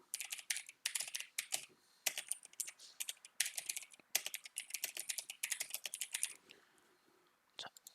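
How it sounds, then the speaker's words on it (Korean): Computer keyboard typing in bursts of quick, close clicks, ending with a single separate keypress like the Enter key, heard during a Korean word-processor exercise for an ITQ exam. "여기서 엔터 한 번 더 이렇게 눌러주시고"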